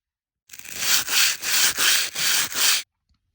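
Abrasive sanding on an 1863 Civil War musket: six rhythmic, close, loud back-and-forth rubbing strokes with brief gaps between them, heard alone with no voices.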